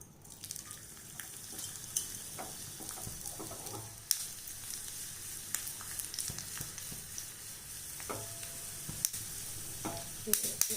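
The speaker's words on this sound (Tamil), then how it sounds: "வடகம் நல்லா பொரிய ஆரம்பிச்சிருச்சு" Pieces of vadagam, sun-dried fritters, crackle and sizzle steadily in hot tempering oil, with soft intermittent pops and faint clinks of stirring, fairly quiet and close.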